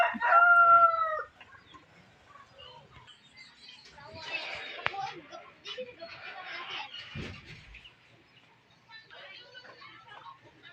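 A rooster crows loudly once at the start, followed by hens clucking and scattered outdoor noises at moderate distance.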